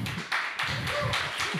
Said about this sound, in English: Big applause for America.